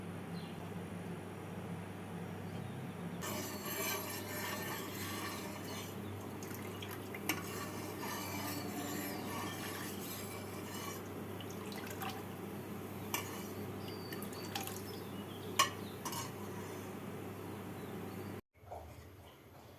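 One and a half litres of milk thickening in a pot produces a continuous soft bubbling hiss. Occasional faint clinks of stirring sit over it before the sound cuts off abruptly near the end.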